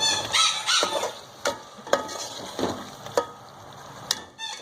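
Potatoes are tipped into a pan of frying masala with softened tomatoes and stirred, giving a soft sizzle broken by several sharp spoon-on-pan scrapes and knocks at an uneven pace, close by with no talk.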